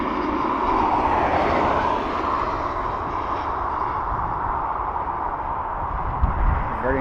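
A British Airways airliner arriving from London at Dublin Airport, its engines a steady, broad roar that holds loud and close throughout, with a brief thump near the end.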